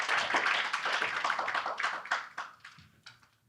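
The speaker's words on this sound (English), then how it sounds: "please welcome them with a big round of applause" An audience at a maritime digitalization conference session claps to welcome panelists to the stage. The applause starts full and dense, then thins into scattered individual claps and fades out.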